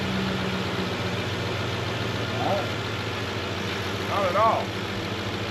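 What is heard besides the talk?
truck engine started and idling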